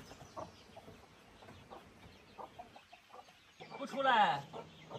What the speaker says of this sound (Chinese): 这里有只母鸡产蛋。